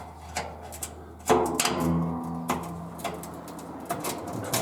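A part is pried up and snapped off an Amana LW8363W2 washer during repair, making a few sharp clicks and then a louder plastic thud and rattle at close range.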